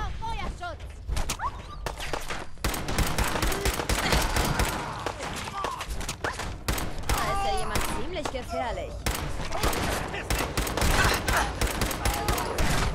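Rapid, repeated gunfire in Fallout 4 keeps cracking out in dense bursts, mixed with other game noise and a voice talking over it.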